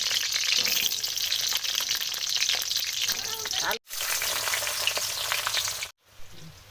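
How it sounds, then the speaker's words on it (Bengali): Duck meat frying in a hot pan (kadai): a loud, continuous sizzle and crackle with stirring that runs almost the whole time, broken by two brief drops. "তার মাংসটা ভেজে নেবো।"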